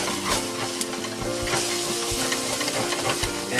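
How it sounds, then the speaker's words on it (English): A utensil scrapes cooking residue across a hot pan from browning venison, in steady repeated strokes over a continuous close sizzle, with no voices. "I'm going to scrape it"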